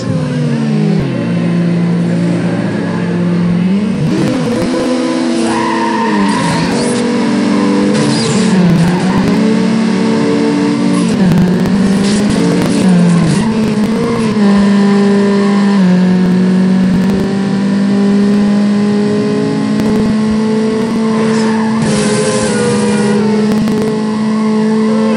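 A Toyota Supra races in Need for Speed Underground, its engine revving loudly and steadily through gear changes with brief tire squeals, while a voice talks intermittently over the continuous car noise.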